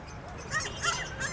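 Small puppies for sale in a mall pet shop in Divisoria, giving soft high yips and whimpers at close range against busy indoor background noise.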